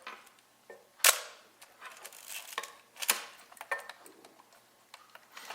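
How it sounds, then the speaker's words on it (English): A Yashica TL Electro X film SLR camera shutter fires several times in quick, sharp mechanical clicks, close and crisp against a quiet background. "But the shutter seems to be working okay."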